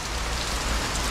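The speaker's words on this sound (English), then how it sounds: "rain has stopped, downpoured for about 15-20 minutes, like super heavy" Heavy rain pours down in a dense, steady hiss of drops striking surfaces, loud and unbroken for about a second.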